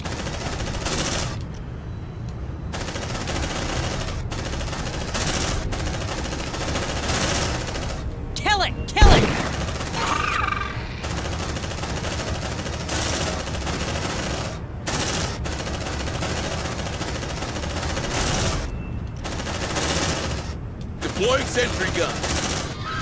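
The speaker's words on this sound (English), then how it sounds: "Suppressive fire!" Marines lay down suppressive machine gun fire in the video game Aliens: Dark Descent, dense sustained bursts with short gaps between them and one sharper crack near the middle, while voices are heard over the shooting.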